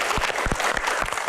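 An audience at a Q&A event with badminton player Taufik Hidayat applauds, a steady patter of clapping with a few sharper individual claps, fairly faint and brief.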